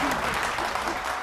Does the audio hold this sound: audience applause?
yes